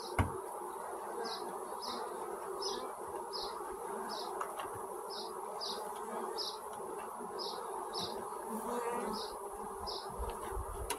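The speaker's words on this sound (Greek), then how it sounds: "Τινάζουμε και τις υπόλοιπες μέλισσες μέσα." A swarm of honeybees being shaken into a hive gives off a steady, dense buzzing that carries on unbroken, with faint bird chirps above it.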